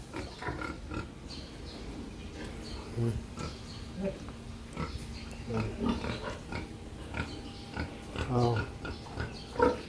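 Sow pig being conditioned and dewormed on a farm, grunting repeatedly in short close snorts and oinks, with a person speaking briefly among the grunts.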